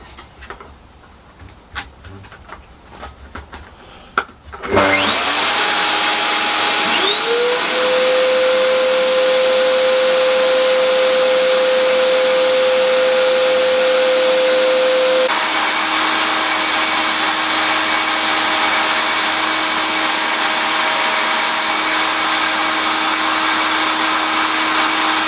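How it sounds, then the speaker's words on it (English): A power tool cutter starts abruptly and runs continuously at a steady, loud high-pitched whine, its tone shifting slightly as it cuts into the wood of a guitar neck. "we'll give it a go first with the cutter"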